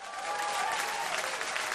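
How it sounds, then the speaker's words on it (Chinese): A studio audience at a televised Chinese TV drama awards gala claps together in a brief, even burst of applause filling the hall. "今天我提议我们伸出手为自己鼓掌"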